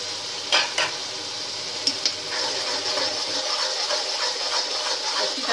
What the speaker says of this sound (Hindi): मसाला भून रहा है।